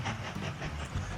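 A bullet train in the railway-building game Mashinky rushes past in a short steady roar with a hissing, rumbling rail rhythm, fairly faint and without any voices.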